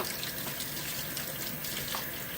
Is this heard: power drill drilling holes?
no